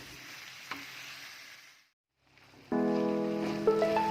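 Wood ear mushrooms stir-fried in a pan, a soft hissing sizzle with a light scrape that cuts briefly to silence, then returns with a louder tonal hum and clinks, close by and with no talking.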